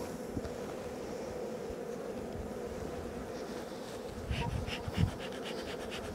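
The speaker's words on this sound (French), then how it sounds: "il y a pas mal d'abeilles dessus." A dense, continuous buzzing of many honeybees close by on a hive frame, with a few brief louder bumps near the end.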